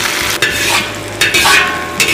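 Dried chilies and Sichuan peppercorns hit hot oil in a wok with a loud, close, steady sizzle. Stirring scrapes swell through it, with no talking.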